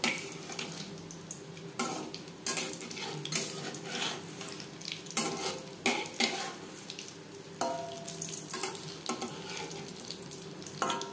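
Oil sizzles and crackles continuously at close range as egg chops fry, with occasional louder bursts of spattering.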